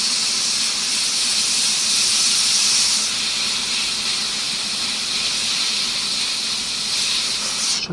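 Airbrush spraying paint onto a Kharadron Overlords Frigate miniature, a steady close hiss of air running continuously and cutting off at the end.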